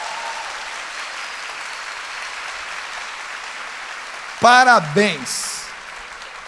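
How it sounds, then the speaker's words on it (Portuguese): An audience breaks into steady, sustained applause that fills the room for several seconds, ending as a voice briefly speaks over it. "aplaudem essas pessoas com toda a força de vocês"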